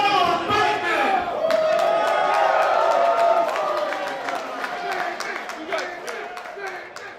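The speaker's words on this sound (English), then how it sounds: "The crowd helping Mantis with the introduction there." Wrestling crowd chanting along during a wrestler's ring introduction at a Relentless Wrestling event, a loud, dense mass of voices with rhythmic shouts and scattered claps and thuds filling the hall throughout.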